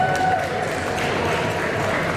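Applause from the audience at a community candidate forum, a moderate wash of claps mixed with crowd murmur and voices for a couple of seconds.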